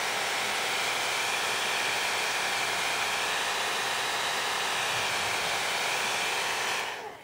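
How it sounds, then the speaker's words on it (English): A blow dryer runs steadily on a warm setting over faux fur cosplay ears, a loud continuous airy roar that holds for several seconds and then cuts off abruptly at the end. "blow dryers get pretty hot, and just like some wigs, if it's not, you know, certified heat safe, then"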